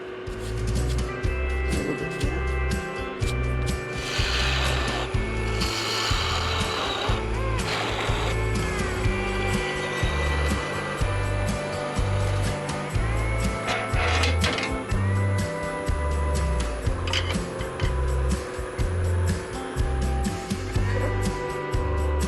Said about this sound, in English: let's try a little chatter on the top